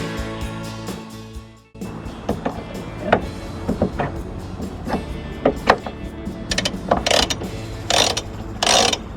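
A freshly serviced sailboat winch spins with a rapid ratchet clicking, first as a steady run, then as bursts of sharp clicks and whirring turns up close.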